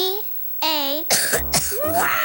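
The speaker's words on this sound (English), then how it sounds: "Wow, that was some cough." A cough in a television commercial for cough medicine, loud and close, with a throaty burst and a rasping edge alongside voiced sounds, heard alone without talk.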